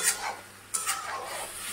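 Water is poured into a sizzling curry of egg, pointed gourd, soya chunks and chana dal in a pan, with a sharp hiss and stirring scrapes that settle into a steady close frying sizzle.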